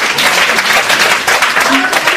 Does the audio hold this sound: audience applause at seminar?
yes